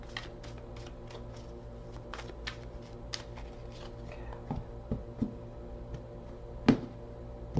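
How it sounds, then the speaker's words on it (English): Several quick papery riffles and soft slaps of cards being shuffled, close up over a steady low hum, with a sharper snap near the end. "Two more shuffles."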